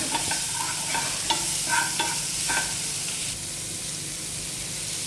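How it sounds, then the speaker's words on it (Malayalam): Onion browning in butter in a pan, a dense close sizzle broken by several spatula scrapes and stirs early on, then settling into a quieter steady hiss. "നമ്മളുടെ ബട്ടറിനകത്ത് ഈ അനിയനെ നമ്മൾ ലേശം ബ്രൗൺ, അധികമല്ല, അത് ഇടുവാണ്"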